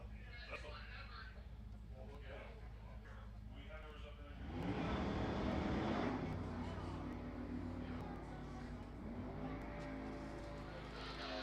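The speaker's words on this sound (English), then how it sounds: "Both cars away on the green." NHRA Super Street drag cars launch together off the line in a divisional final, a broad roar of engines swelling loudly at once and then holding under a commentator's voice and crowd noise.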